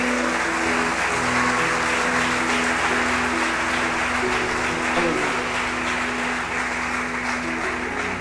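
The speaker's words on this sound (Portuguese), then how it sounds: "eu queria que você aplaudisse a Jesus." A church congregation applauds during a celebration service, sustained clapping blended with a steady musical backing underneath.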